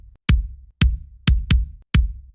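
Punchy Drumforge kick drum sample for an emo/pop punk mix, five tight hits in an uneven pattern, each a sharp attack with a short low decay, played alone with no voices.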